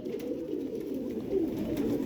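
Pigeons cooing on a rooftop loft where a proper breeding pair, a male and a female, is kept; a steady low murmuring coo runs continuously at close range with no voices over it.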